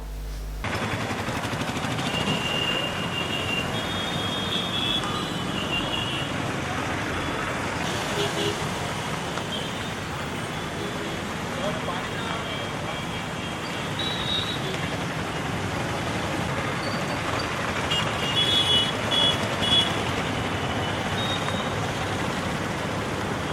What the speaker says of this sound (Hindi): भारी बारिश की वजह से ट्रैफिक में खलल वाक़ हो गया।